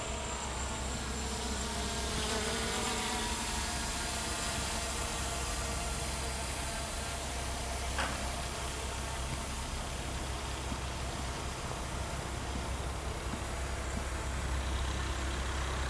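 The motors of an Eachine EX2H altitude-hold drone give a steady, high, insect-like buzz in flight, constant and unbroken under heavy wind rumble outdoors.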